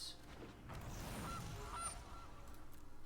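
A goose card's honking effect in the MTG Arena digital card game, a short burst of nasal honks over a dense, steady bed of game sound, moderately loud with no voices.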